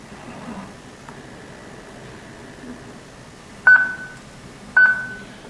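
A 360Eyes security camera powering up gives two short electronic beeps about a second apart, clear and close against a quiet, faintly hissing room.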